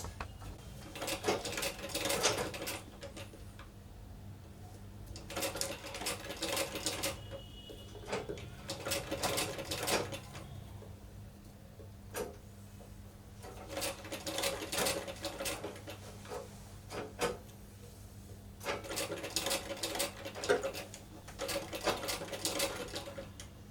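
A sewing machine stitching a puff sleeve runs in repeated bursts of several seconds each, its rapid mechanical chatter separated by short pauses of fabric handling, close and alone without talking.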